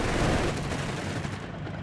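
An MG42 machine gun mounted on a half-track fires in a Company of Heroes 3 battle, a dense, loud rattle of rapid shots with booming battlefield noise that eases slightly toward the end.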